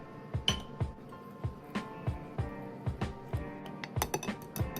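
A utensil mixes toffee cake batter in a bowl with steady, rhythmic wet taps and light clinks against the sides, close by and unaccompanied by talk.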